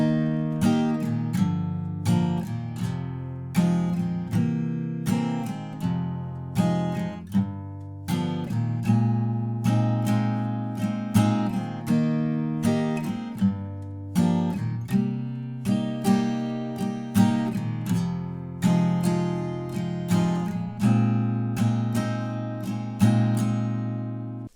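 Acoustic guitar strumming the verse chords of a song, steady rhythmic strums ringing one after another, clear and close with no talk.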